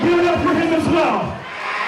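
Wrestling crowd at River Oaks in a steady, loud mass of voices reacting with displeasure, broad continuous roar with bellowing shouts rising and falling over two seconds.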